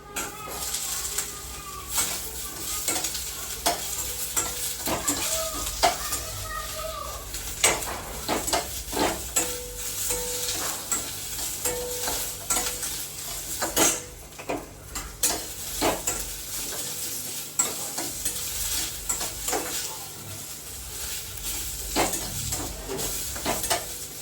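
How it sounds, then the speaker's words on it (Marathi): Garlic and chopped tomato sizzle and fry in a pan for a Marathi mixed-vegetable bhaji, with a utensil stirring and scraping repeatedly against the metal over a steady hiss; faint birdsong sounds in the background. "आता मी हा लसूण टाकते, आणि आता हा टमाटा"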